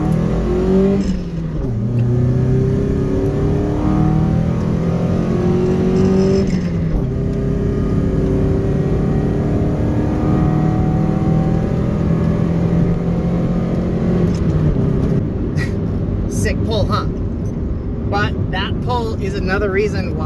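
A basically stock dual-cam Nissan 240SX S13 engine revs and accelerates hard through several gear shifts, its pitch climbing and dropping repeatedly, with faint talk near the end.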